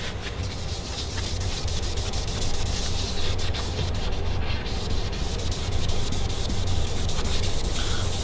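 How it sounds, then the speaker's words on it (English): Open-grit 320 sandpaper rubbed steadily over a guitar body being readied for leather dye staining, a continuous close, even scratchy hiss with slight swells in intensity and no talk. "sanded down to 320 with that open grit sandpaper"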